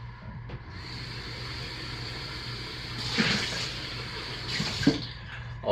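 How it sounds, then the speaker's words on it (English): Lye water is poured slowly into soap oils while making lavender martini cold process soap, giving a steady, close trickling splash that swells briefly twice before fading. "So I will slowly, carefully pour the lye water into the oils."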